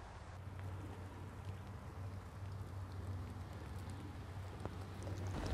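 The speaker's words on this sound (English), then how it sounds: "not only is it pouring rain" Pouring rain falling steadily on a garden bed outdoors, a soft, even wash of hiss with a low droning hum underneath, holding constant throughout and swelling slightly toward the end.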